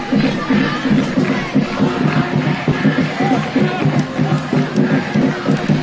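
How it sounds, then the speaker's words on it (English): Spectators at a boys varsity high school football game between Indian Hill and McNicholas cheer after a conversion. The crowd noise is continuous and roaring with rhythmic swells, and some talk overlaps it. "The crowd really into it with that conversion."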